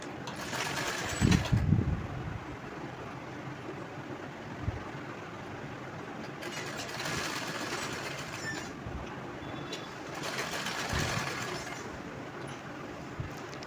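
A sewing machine stitches the back neck of a blouse, with its needle clattering in a steady, fast rhythm that swells and eases across several stitching runs. No one speaks.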